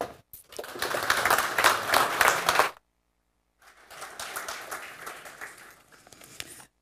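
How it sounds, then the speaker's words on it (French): Audience applause at a plant-sector general assembly in the Citadelle de Namur, a burst of dense clapping that stops abruptly, then resumes more softly after a short silence. "Vos applaudissements."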